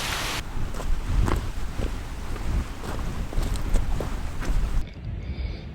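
Strong wind buffeting a microphone outdoors at a winter mountain campsite in the Lake District, a steady roaring rush with gusty swells throughout, dropping away abruptly near the end.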